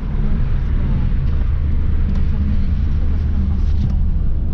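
A rented car drives along the highway from Meknes to Rabat. It makes a steady, loud low rumble with road noise from inside the cabin, and faint voices come and go beneath it.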